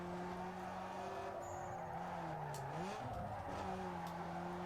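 Racing video game car sliding into oversteer, a steady engine drone with tire squeal wavering and sweeping in pitch as the rear slides, continuous and moderately loud with no talking.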